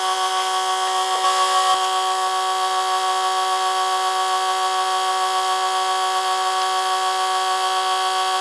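A drill bores into the exhaust manifold of a third-generation Cummins diesel truck with the engine running, a loud continuous whine with steady harmonic tones throughout, briefly shifting pitch early on, with no talking.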